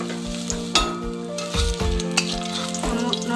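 Tender curry leaves coated in leftover gram flour batter sizzle steadily in hot oil in a home kitchen, with intermittent stirring clinks and scrapes of a utensil against the pan.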